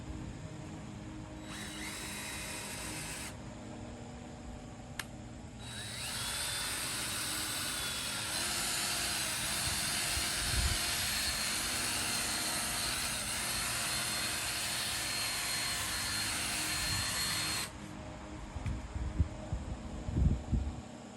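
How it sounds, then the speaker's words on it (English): A two-speed power drill polishing a 1999 Cadillac Escalade headlight whirs steadily for a long stretch, starting and stopping a couple of times, with some low knocking and handling noise near the end. "Helps to have a 2-speed drill so you can slow it down."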